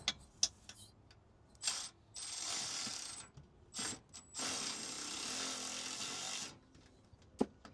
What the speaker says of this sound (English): So I use this deep socket on one side and that same Allen on the other side.